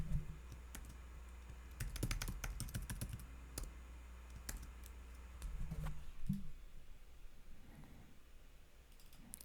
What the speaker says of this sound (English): I'm going to type here